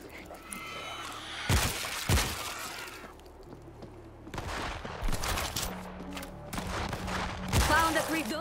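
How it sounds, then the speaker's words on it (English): Sharp gunshot cracks in the video game World War Z: Aftermath ring out in scattered bursts, some close and some more distant, over a low rumbling background with a few faint electronic blips. "Those shots came from the highway."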